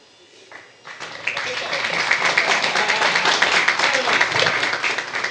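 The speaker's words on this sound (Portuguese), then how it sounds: "A salva de palmas, gente, é uma celebração" Audience at a human rights award ceremony breaking into applause after a quiet start, dense clapping swelling and holding steady, with a voice faintly underneath.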